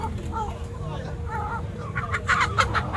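Hens clucking and squawking at an outdoor chicken market in Palmeira dos Índios, Alagoas, Brazil, amid a busy crowd with people talking over the birds; the calls grow louder and more frequent toward the end.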